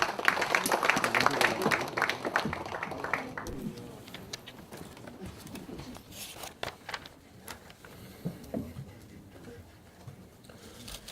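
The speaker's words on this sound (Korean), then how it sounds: "여러분 힘찬 박수로 맞이해 주시기 바랍니다." Lawmakers applaud at a Liberty Korea Party general assembly, a dense burst of clapping for the first few seconds that thins out into quieter room noise with scattered claps.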